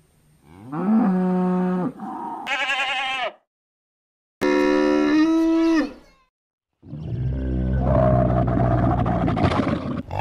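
Farm cattle mooing in several separate calls, loud and close, with long drawn-out lowing separated by short silences and no talk.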